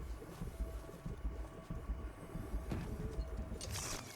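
A moving train in the Apex Legends video game rumbles and clatters at a quiet, steady distance with uneven rhythmic thumps, no voices.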